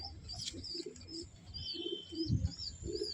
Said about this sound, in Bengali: তুমি এই পায়রা দুটো কেরম উড়িয়েছ প্রবীণ